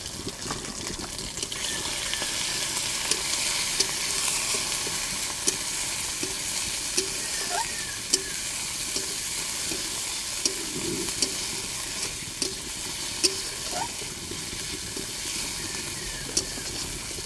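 Spice masala with turmeric and chili powder fries in a pan, a continuous close sizzle broken by repeated scraping stirs and small clinks of the spoon against the pan.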